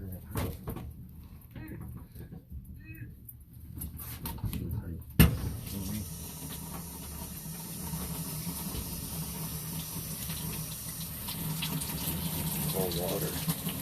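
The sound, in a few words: water running from a tap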